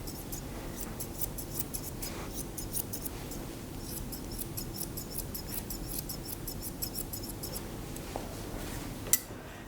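Scissors trim a poodle's head fur into a teddy style, making rapid, quiet snipping clicks in irregular bursts that run close and alone throughout, with one sharper snap near the end.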